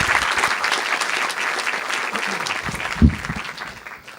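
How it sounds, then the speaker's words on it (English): An audience at a public talk on moral dilemmas applauds steadily and fairly loudly throughout, a dense even wash of clapping with one sharper knock near the end. "let's give them all a big round of applause."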